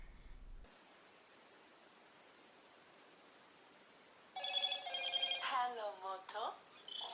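A Motorola G5S smartphone plays its startup audio: after a quiet hiss, a bright electronic jingle of rising and falling tones sounds close and clear.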